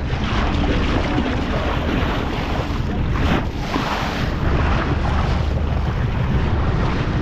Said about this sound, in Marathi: समोर बघा कशा लाटा येतात